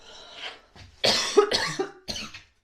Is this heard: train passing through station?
no